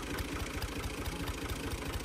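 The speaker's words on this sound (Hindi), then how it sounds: "चलो चलाओ भाई अली ट्रैक्टर चलाने लगा है।" A tractor engine idles close by with a steady, low, rhythmic thumping chug that runs unbroken through the short clip, with no talk.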